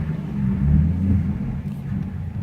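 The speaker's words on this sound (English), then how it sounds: "Exhaust sounds great." A 2015 Ford Mustang V6 exhaust rumbling while driving, a low steady drone that swells slightly and then eases, heard from inside the car.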